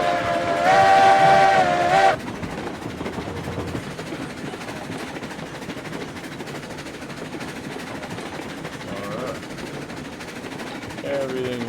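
A steam locomotive in the RailRoads Online game gives a loud whistle blast lasting about two seconds, then settles into a steady rolling rumble of the running engine and wagons, with a faint squeal near the end.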